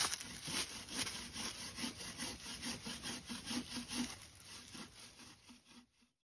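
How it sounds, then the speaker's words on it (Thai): A hand saw cuts wood smooth in brisk, rhythmic back-and-forth strokes, close and clear, each pass a rasping swish, before stopping abruptly at the end. "มาเลื่อยใหม่ซอยนะครับ"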